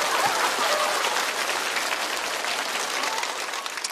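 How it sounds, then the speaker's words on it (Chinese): Dense, sustained audience applause for comedian Xiao Zhou at a stand-up comedy show, filling the room evenly from start to finish without a break. "掌声送给小周"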